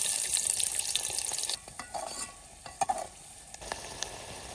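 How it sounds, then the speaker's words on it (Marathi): Onions dropped into hot oil in a pan on a village wood-fired stove, a loud hissing sizzle at first that settles into a quieter fry with a few sharp stirring clicks and scrapes. "कांदा टाकतो. आता तेल गरम झालं."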